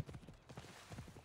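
Horse hooves clip-clop in a steady trotting rhythm in the video game Assassin's Creed Odyssey, soft and fairly close, with no talk over them.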